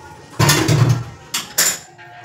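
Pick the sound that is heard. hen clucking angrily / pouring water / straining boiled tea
straining boiled tea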